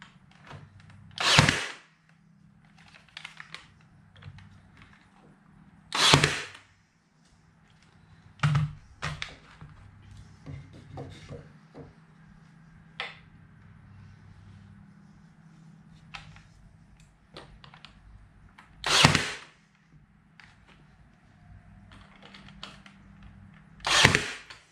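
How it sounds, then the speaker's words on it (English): A Ryobi nail gun fires sharp, loud single shots tacking a piece into a farmhouse console table, five or so widely spaced bangs with quieter handling clicks and shuffling in between. "we're just gonna tack it in with this Ryobi gun again."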